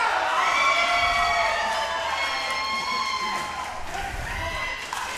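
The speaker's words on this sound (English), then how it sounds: "Here's some screaming." Loud crowd at a professional pickleball center court match cheering and screaming, with high-pitched shrieks and whoops layered over a steady roar for several seconds.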